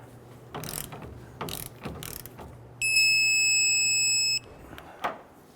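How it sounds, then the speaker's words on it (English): A few brief ratcheting clicks from a torque wrench tightening leaf spring shackle nuts on a 2005-2021 Nissan Frontier, then a steady electronic beep lasting over a second as the wrench signals its set torque, close and clear. "Torque down the nuts here to 78 foot-pounds."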